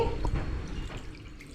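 Water is poured from a bowl into a mix of semolina and curd, giving a soft, brief splash and trickle close by in a quiet kitchen.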